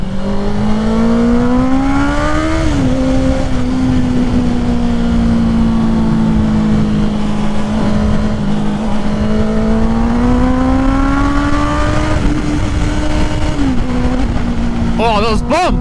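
A Honda CBR650R fitted with a Black Widow full exhaust drones loudly close by at a steady engine pitch, rising and dipping with throttle changes, before a flurry of sharp exhaust pops and crackles right at the end.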